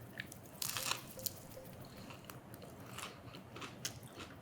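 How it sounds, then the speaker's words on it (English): A crunchy low-carb onion chip is bitten into, giving a few crisp crackling crunches and faint chewing, close and quiet with no talking. "There's still a little bit of crunch in the onion."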